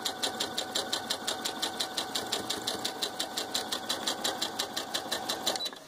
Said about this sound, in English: I'm going to go ahead and sew that.